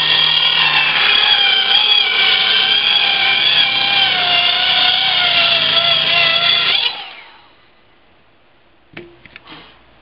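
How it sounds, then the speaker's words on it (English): A plywood sheet is sawn through beside a shed wall, giving a steady loud rasping cut for about seven seconds that stops abruptly, followed by a few faint knocks as the piece comes free. "I'm going to cut it off so we can use it on the side of the shed."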